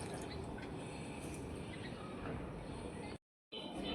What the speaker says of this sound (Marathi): नारळाच्या झाडाला ना पाणी खूप पाहिजे, छान असं पाणी टाकूया मस्त।